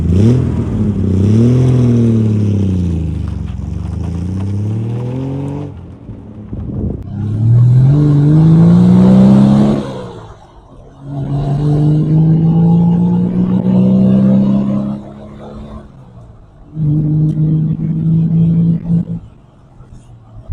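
A 1973 Triumph GT6 straight-six engine revs and pulls hard through several gears on the road, rising and falling in pitch with each shift, loud and close.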